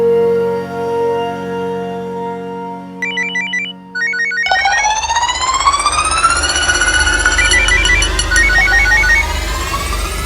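A phone ringtone plays loudly and steadily, starting as a sustained electronic tone and then shifting into a rising, melodic ringing pattern with no voices.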